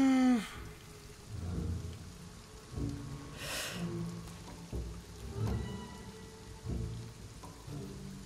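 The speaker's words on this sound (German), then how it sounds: "Der Sturm kommt ziemlich schnell." Rain falls with low rumbles of thunder building during a storm in Shadow of the Tomb Raider, a steady wash with repeated deep rolling booms at a moderate distance and no talk over it.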